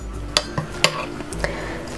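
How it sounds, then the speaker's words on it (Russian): A fork stirring an egg mixture for quiche in a bowl, a few light clinks and scrapes against the side at an uneven pace, close and quiet. "поэтому я вилкой сейчас просто это размешаю, и все"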